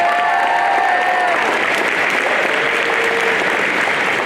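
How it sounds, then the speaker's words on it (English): A graduation crowd in the stands applauds and cheers for several seconds, a dense, loud wash of clapping with scattered whoops over a faint voice. "give a round of applause and a nice cheer to all the people in the stands tonight"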